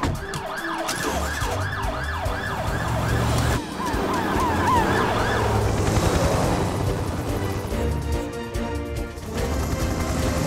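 A mountain rescue ambulance in an animated Fireman Sam episode sounds a loud, continuous wailing siren that rises and falls steadily, with vehicle noise underneath.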